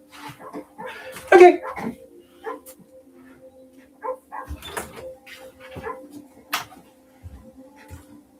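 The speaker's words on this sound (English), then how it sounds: "Strangers and Freaks mission, you can hear a dog barking." A dog in a video game's Strangers and Freaks mission gives a few scattered barks and whimpers at moderate volume, with a person speaking briefly over the game sounds.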